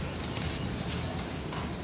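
Pigeons coo softly against a steady background hum, a male courting a female, with low murmuring calls running continuously through the short stretch.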